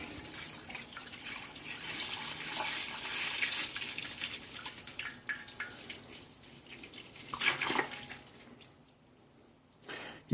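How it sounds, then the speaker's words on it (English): Milk pours into a pot before any heat is on for homemade mozzarella, a soft continuous liquid stream that swells and trickles off, fairly quiet and with no speech. "so we're going to add the milk"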